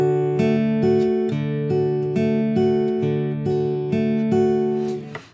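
Fingerstyle guitar picks an alternating bass line on the 4th and 3rd strings, steady regular notes ringing clearly and alone at moderate loudness.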